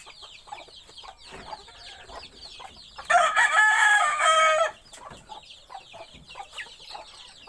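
Chickens including a white hen cluck in short scattered calls close by, with a loud rooster crow rising in the middle before the clucking continues.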